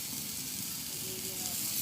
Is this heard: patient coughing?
no